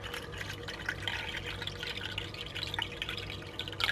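Water pours from a cup onto quinoa in a pot, a steady close splashing and trickling for a few seconds with small drips near the end.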